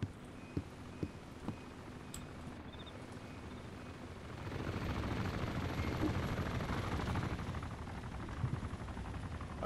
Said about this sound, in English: Chopper's coming.